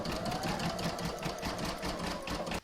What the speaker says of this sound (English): I'm now going to stitch round number 15, which is the last round, and that's going to do the decorative edge around the egg